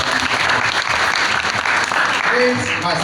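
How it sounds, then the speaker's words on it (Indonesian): Church congregation at a Sunday worship service on Indonesian Independence Day bursting into loud, close applause, with voices calling out and some talk mixed into the clapping. "Tepuk tangan dulu buat"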